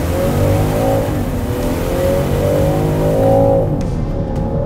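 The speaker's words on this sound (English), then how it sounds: "The 2023 Defender 130 P400 with 395 horsepower and 406 pound-feet of torque. Foot to the ground, let's go" A 2023 Land Rover Defender 130 P400 with a 395-horsepower engine accelerating hard from a standstill, its loud close engine note climbing steadily in pitch through the gears with no talking.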